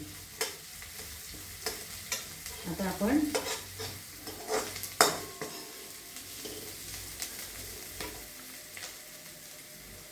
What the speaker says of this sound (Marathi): त्याच्या फोडणीतच कोथिंबीर घालायची थोडी